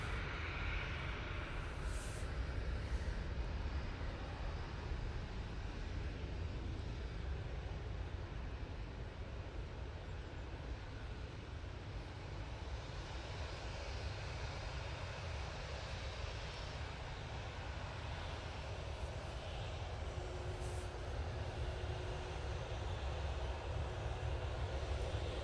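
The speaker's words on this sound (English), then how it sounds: "This is KLM, I think it's the A321neo coming in from Amsterdam Schiphol." A KLM Airbus A321neo airliner arriving at Manchester Airport from Amsterdam Schiphol produces a steady, distant broadband engine roar that holds evenly throughout without any voices.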